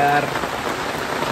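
Steady, heavy rain pours down close by as a loud, continuous hiss of drops striking surfaces, with no break across the short stretch.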